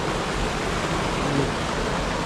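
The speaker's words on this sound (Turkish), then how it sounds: "Bozkır Karagöl'ün besleyen en büyük derelerden bir tanesi." A large forest stream that feeds Bozkır Karagöl lake rushes in a steady, dense broadband roar, even and unbroken throughout, with no voices.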